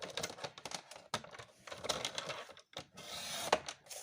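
Paper is cut for a handmade scrapbook album: a series of close, crisp rasping slices and clicks from the cutter, with short pauses between strokes.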